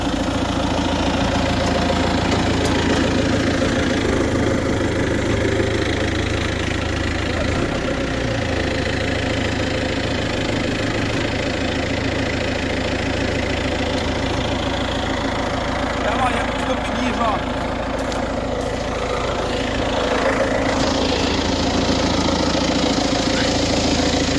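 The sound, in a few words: MTZ tractor engine idling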